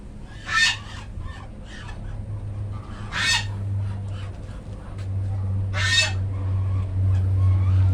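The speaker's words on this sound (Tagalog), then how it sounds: "Ang ingay ng gansa." Loud honking calls from geese burst out three times over a steady low hum and faint background farmyard noise.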